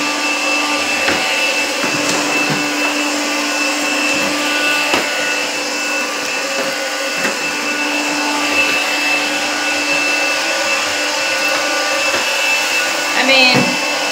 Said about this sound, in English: it's not going with the one swipe of the vacuum, but it is picking up the litter